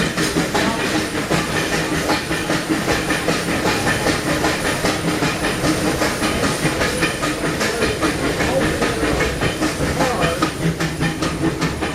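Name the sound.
Disneyland Railroad train moving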